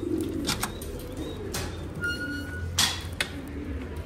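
Süvere pigeons coo softly in a loft, with short bird calls and faint chirps over low background noise.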